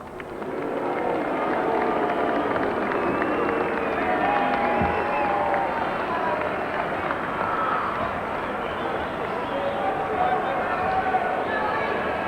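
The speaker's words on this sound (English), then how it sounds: "To the crowd of Lang Park, thanks very much for that ovation there." Stadium crowd at Lang Park after an Australia versus New Zealand rugby league test, a sustained roaring ovation with applause and cheering spread wide and distant, steady for the whole stretch.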